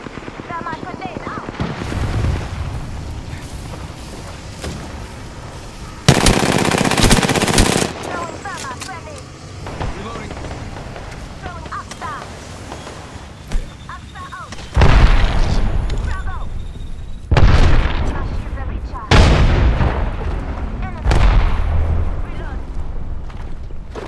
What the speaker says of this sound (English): It's enough, I'm getting shot at.